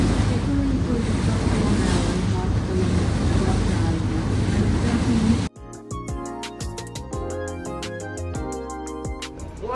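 A boat cuts through sea waves in strong wind, a loud, steady rushing wash with wind buffeting close on the microphone, then it abruptly drops away to music.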